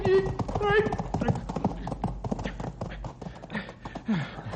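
Horse hooves clip-clop in a quick, steady rhythm close by, with shouting voices and commotion over the hoofbeats.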